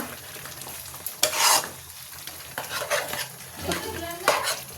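Malai chicken is sautéed in a pan while a spoon stirs and scrapes through it. The sizzle comes in bursts with the clatter of the stirring, close up and without voices.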